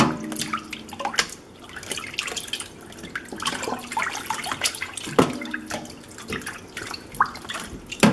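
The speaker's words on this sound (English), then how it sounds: "I'm splashing around." Water splashes and sloshes irregularly in a sink, with drips and choppy bursts close by and no talking.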